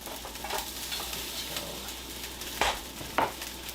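Souvlaki skewers being turned on a grill, with a soft continuous sizzle, light scraping and shuffling, and two sharp metallic clinks near the end.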